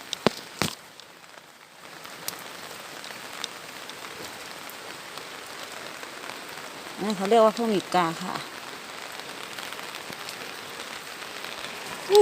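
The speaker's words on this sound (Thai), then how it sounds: "ฝนตกทั้งวันทั้งคืนครับ ตกหนัก" Steady rainfall patters on surfaces close by in a rural Thai setting, a continuous soft hiss running throughout while someone speaks briefly partway through.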